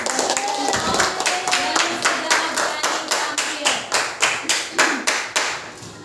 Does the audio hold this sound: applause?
yes